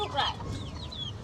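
Backyard chickens suffering from the cold, clucking and squawking up close: a couple of short, high, rising calls and brief clucks over a faint murmur of a voice in the background.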